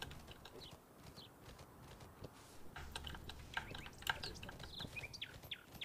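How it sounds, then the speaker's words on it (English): Quick, irregular keyboard taps from button mashing during the horse riding game Horse Tales: Emerald Valley Ranch, soft and close over faint game ambience with light chirpy game sounds toward the end. "Can you guys hear me button mashing"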